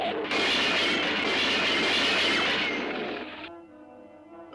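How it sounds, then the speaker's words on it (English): A train rushes loudly past in an animated crime cartoon scene, a dense continuous roar of wheels and rumble lasting a few seconds before cutting away to a quieter tonal background. "here comes the train"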